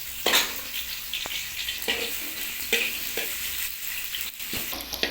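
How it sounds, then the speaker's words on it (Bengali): Onions frying in hot oil and being stirred in a pan, a continuous sizzle broken by a few sharp scraping strokes at uneven intervals, with no talking. "এবার আমরা পেঁয়াজ দিয়ে নিচ্ছি। পেঁয়াজটাকে একটু নেড়ে নিতে হবে।"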